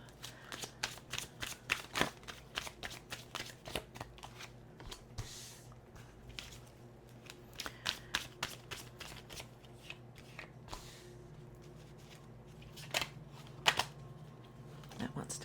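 A deck of oracle cards shuffled by hand, quick riffling flutters and soft slaps repeating in bursts, close but quiet, with faint room tone in between.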